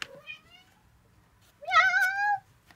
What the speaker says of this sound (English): Hi Phoebe, this is my auntie's cat.